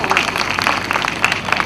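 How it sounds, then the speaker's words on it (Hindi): Audience at an abacus demonstration claps for the children, a short burst of quick scattered applause with speech over it. "बच्चों को तालियां तो बजा सकते हैं आप"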